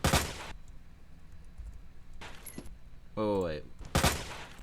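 Gunshots in the Resident Evil 2 Remake video game fire in a few sharp, separate blasts with quiet gaps between them, alongside a short electronic game tone and a brief spoken remark.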